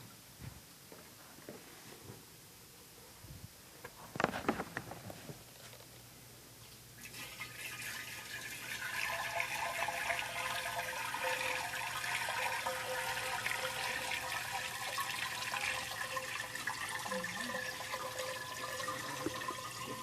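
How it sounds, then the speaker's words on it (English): Clean water runs from a faucet to rinse an ice cream machine, beginning with a few clanks and handling knocks, then a steady rushing stream that continues for the rest of the clip. "So I'm going to rinse the machine with some clean water."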